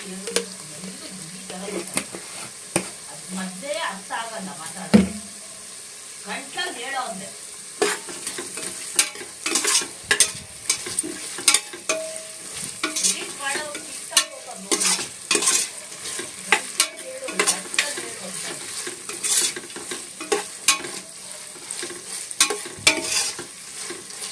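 Onions frying with a teaspoon and a half of ginger garlic paste, a steady crackling sizzle with frequent spoon scrapes and knocks against the pan, close and continuous.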